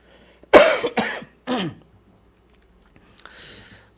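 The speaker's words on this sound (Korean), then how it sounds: "제가 가끔 이렇게 기침을 하는데" A preacher coughs during a Wednesday evening church service, three loud, close coughs in quick succession, followed after a pause by a softer throat sound.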